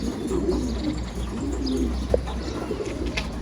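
A pigeon returns to a loft amid nearby cooing and light chirps over steady outdoor background noise, with a single brief sharp note near the middle.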